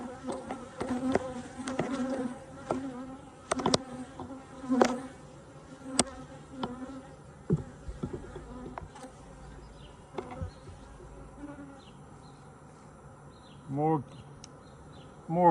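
Honeybees buzz steadily at an open hive, some passing close with sharper, louder swells, while a voice speaks faintly at times.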